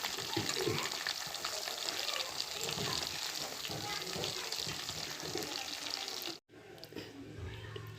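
Fish frying in oil over medium-low heat gives a dense, steady crackling sizzle, close and fairly loud, cutting out abruptly for a moment before resuming more quietly.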